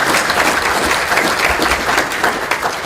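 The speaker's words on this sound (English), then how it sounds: "It's now my pleasure to give Councillor Kennedy a round of applause." An awards ceremony audience gives a round of applause for Councillor Kennedy, dense, steady clapping from many hands, loud and continuous throughout.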